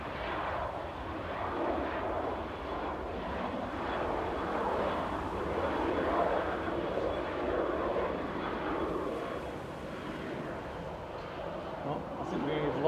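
An airliner lands at Manchester Airport with reverse thrust roaring, a broad, steady rumble from mid-distance that swells and fades over several seconds, with people talking over it.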